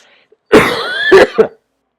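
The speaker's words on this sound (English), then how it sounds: "You guys heard my cough." One person coughs close to the microphone in a short burst of two or three harsh hacks with silence before and after.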